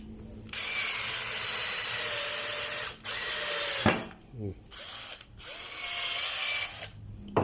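A power drill with an arrowhead bit whirs loudly in several bursts, with short pauses and a clicking ratchet sound between the runs.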